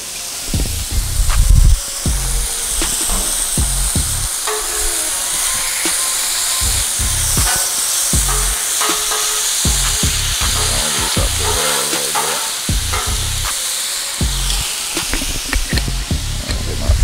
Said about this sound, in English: Now I'm gonna go ahead and throw my vegetables on.